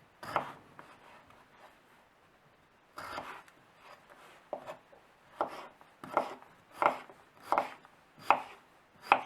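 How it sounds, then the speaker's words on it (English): A potato being cut into small pieces with a knife on a board, a run of close, crisp chopping thuds that starts sparse and settles into a steady, evenly spaced rhythm, fairly quiet and without talking. "I will start by cutting up the potato into smaller pieces."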